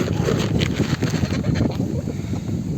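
Strong wind blows across an outdoor poultry yard where geese, ducks and chickens are kept, a loud steady rushing roar with gusty buffeting against the microphone.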